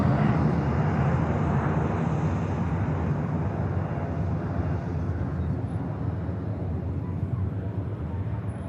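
VistaJet business jet taking off at Manchester Airport: a strong, continuous jet engine roar that slowly fades, with talking mixed in over the engine noise.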